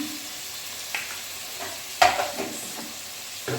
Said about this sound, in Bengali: এটাকে আবার শুধু কষাতে হবে